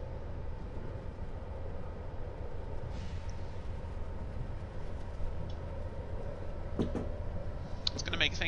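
A Metro-North commuter train running in Train Simulator 2015: a steady low rumble of the train rolling along the track, with faint clicks and brief higher tones near the end.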